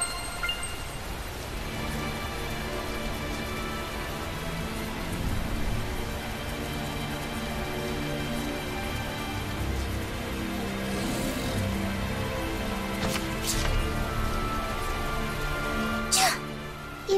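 Steady rainfall in the video game Tales of Zestiria, a continuous wash of rain with a few sharp patters, heard alongside a sustained music-like drone throughout.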